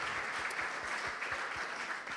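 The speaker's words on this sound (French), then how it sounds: "je pense qu'on peut l'applaudir." Applause from a seated audience at a conference on climate resilience, a short, steady patter of many hands clapping at moderate loudness with no voices over it.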